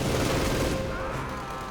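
Dense, continuous machine gun fire in the real-time strategy game Company of Heroes 2, a loud, unbroken battle roar that fills the whole moment with no voices over it.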